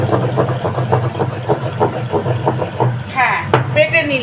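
Ginger, garlic and onion are ground into a spice paste with steady, rhythmic strokes repeating about three times a second, close and fairly loud, before the grinding stops and other sounds and a voice take over.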